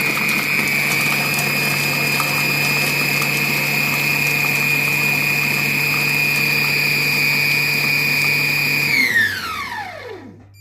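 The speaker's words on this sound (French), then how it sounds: "programme haché pendant 10 secondes," A Compact Cook Pro food processor chops onion at speed 6, a loud steady motor whine running for about nine seconds before it spins down and stops.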